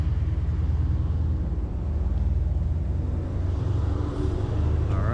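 A 2016 Dodge Challenger ScatPack rumbles low and steady from inside the cabin while driving, a deep continuous engine drone with a slight rise in pitch near the end, no talking.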